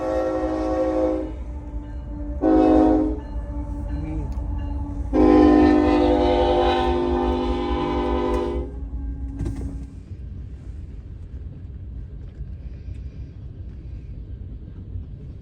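An Amtrak train passes a road crossing, its horn sounding in several loud blasts, a short one, a brief one, then a long sustained blast, over the rumble of rail cars that continues after the horn stops.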